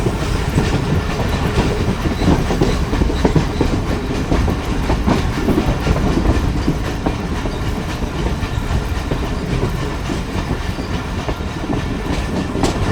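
Sukkur Express passenger train rolling steadily on the rails, a loud continuous rumble with rhythmic clickety-clack of wheels over rail joints, heard from inside the carriage.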